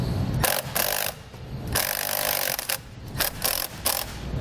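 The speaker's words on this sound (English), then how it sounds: "Tighten the nut back down." A nut is tightened down onto a ring terminal while installing a Curt T-connector trailer wiring harness on a 2018 Volkswagen, giving close, loud bursts of metallic ratcheting and rubbing in several spurts with brief pauses, with no talk.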